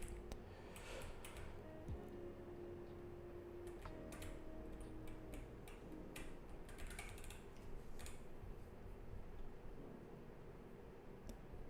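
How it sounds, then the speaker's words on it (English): Arrow keys tapped on a computer keyboard while scrolling a map in a PICO-8 game, quiet irregular clicks in short bursts over a faint steady background hum, with no talk. "now I can just use my arrow keys and scroll around the map."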